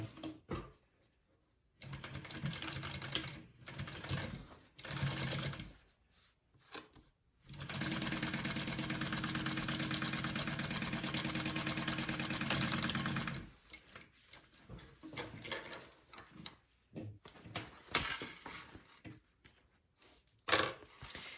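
Sewing machine stitching up the sides of a fabric divider bag, running in several bursts of steady whirring, with one long continuous run in the middle and short stops and starts around it.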